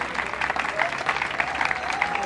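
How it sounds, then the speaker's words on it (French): A crowd applauds the arrival of a party secretary general at a UDPS political gathering, dense sustained clapping with cheering voices mixed in throughout. "Acclamons l'arrivée de notre secrétaire général."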